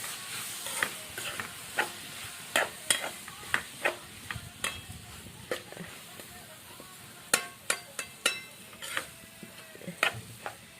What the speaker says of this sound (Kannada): ಇವಾಗ ಚೆಂದಾಗಿ ಮಿಕ್ಸ್ ಮಾಡ್ಕೊತೇನೆ